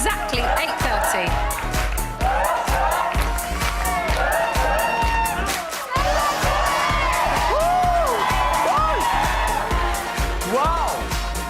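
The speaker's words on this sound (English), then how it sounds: "What a crowd." A live studio audience at a televised launch show cheers, whoops and applauds loudly and continuously, with shouted voices rising and falling through the crowd noise.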